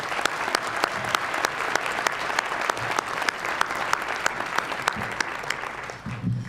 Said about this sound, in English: I would ask that we give a round of applause to the youth being acknowledged tonight